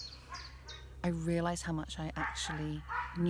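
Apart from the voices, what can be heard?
excited dog barking in the woods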